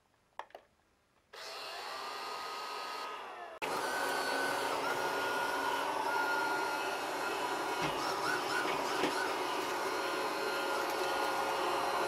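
A Housmile robotic vacuum cleaner starts up with a few soft clicks, then a steady whirring hum that jumps to a louder, constant motor drone and stays close and even throughout.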